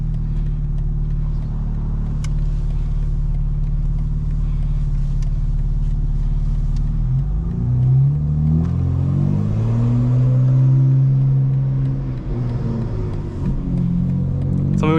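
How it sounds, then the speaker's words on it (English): A 2024 BMW M4 Competition xDrive G82 growls steadily from the cabin while driving with burbles off, a loud deep intake drone that swells and sweeps upward as it accelerates through the revs, with no talking. "you can really hear the intake without the burbles"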